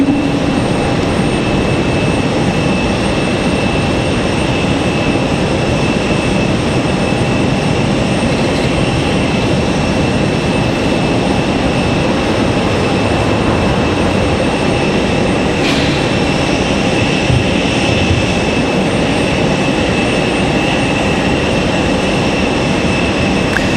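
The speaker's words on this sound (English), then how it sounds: "That is gonna be our MD-11 departure here." An MD-11 jet departing from Raleigh-Durham International Airport in stormy weather gives a steady, loud broadband roar with a constant high whine that holds for the whole stretch, no talk over it.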